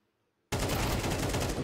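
AK rifle fire in a Counter-Strike match, a sudden loud burst of rapid automatic shots that starts after a brief silence and rattles on steadily at close range.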